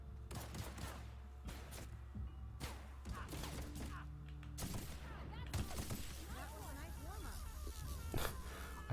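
Gunfire from The Outer Worlds on PS4, with a steady run of shots and bursts that last for several seconds over a constant low game drone, while a voice talks through it.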